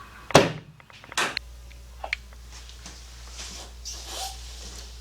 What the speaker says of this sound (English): Pull the hood release a couple of times and you should hear the hood open